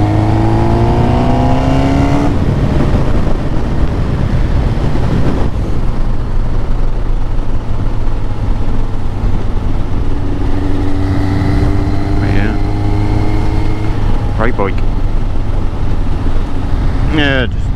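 A Yamaha Thunderace motorcycle accelerates in fourth gear on the road, the engine note rising in a loud continuous drone with wind rush throughout, and a voice briefly heard over it.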